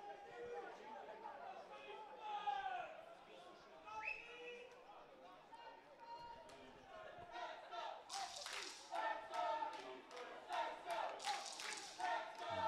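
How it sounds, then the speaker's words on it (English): Swiss fans in the stands at an American football game between Switzerland and Sweden cheer for their defense, distant crowd noise that swells into a louder roar near the end, heard under steady commentary. "Swiss fans are cheering up their defense on the stadium. You might can hear that."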